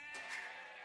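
Sheep bleating in the strategy game Age of Empires 2, two short wavering bleats close together, fairly faint and alone.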